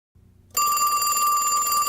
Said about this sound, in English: You are wanted on the video phone.